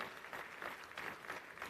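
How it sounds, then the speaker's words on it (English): Applause from the audience at a university convocation ceremony: a brief, steady patter of many hands clapping, faint and distant, with no voices over it. "Please give him a big round of applause."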